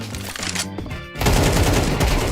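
AK rifle fire in the Counter-Strike video game, heard as rapid sustained automatic bursts with a dense roar that grows louder partway through, loud and close, with no talking.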